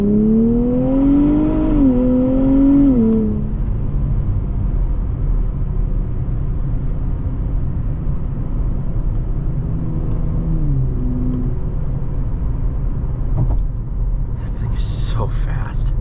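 A 2024 Nissan Z Heritage with an automatic gearbox revs hard and pulls through rising gears, its engine note climbing and then settling into a steady cabin rumble, with a brief upshift surge later and a short burst of noise near the end.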